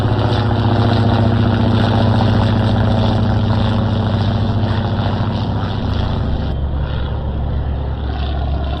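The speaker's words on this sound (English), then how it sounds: "so let's launch our plane" A propeller warplane launches and flies in the naval strategy game Atlantic Fleet, its engine a steady, loud drone that holds for the whole stretch and drops slightly in pitch near the end, with no talking.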